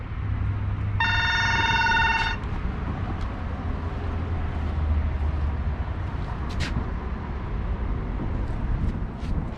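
A telephone bell rings once in a short electronic trill, standing out over steady low road rumble and hum, followed by faint clicks.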